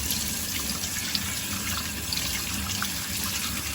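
Tap water runs steadily into a sink while a fish is being washed during cooking, a continuous splashing stream with small irregular drips, close by and without speech.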